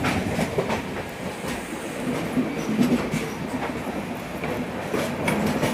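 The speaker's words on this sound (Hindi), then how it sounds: "दोनों ही तरफ से ट्रेनों की क्रॉसिंग हो रही है।" Trains pass each other at an Indian railway station, a continuous clickety-clack of wheels over rail joints with rumbling carriages, loud and near throughout.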